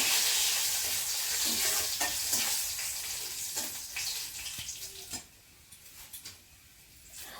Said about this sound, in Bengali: কড়াইয়ে তেল দিয়ে দিলাম আর ডালটা ছাতলে নেব বলে এখানে রসুন আর এখানে শুকনো লঙ্কা দিয়ে দিলাম